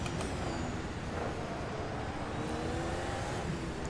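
An F1 2022 race car in the Automobilista 2 sim on the new Spa layout, its engine a steady, continuous drone with a rising whine, heard alone without talk.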